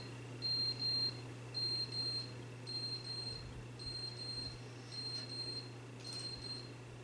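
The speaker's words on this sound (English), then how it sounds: "the smoke detector's going off or whatever" Smoke detector in the video game The Stanley Parable beeping in a regular pattern of short shrill double chirps, moderately faint over a steady low electrical hum, with no one talking.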